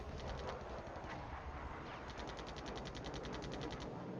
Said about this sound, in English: Okay, we have the first shots fired.